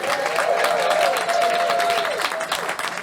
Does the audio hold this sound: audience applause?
yes